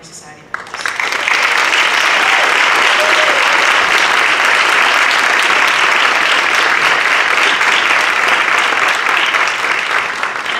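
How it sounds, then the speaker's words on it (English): Loud, sustained audience applause for new National Honor Society inductees at a 2018 induction ceremony, starting abruptly after a brief pause and holding as a dense, even roar of clapping. "please join me once again in applauding all of our new Honor Society members"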